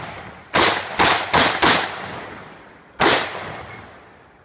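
A .308 rifle fires at a 3-gun match stage: four sharp, loud shots in quick succession, then a pause and one more, each ringing out with an echoing tail.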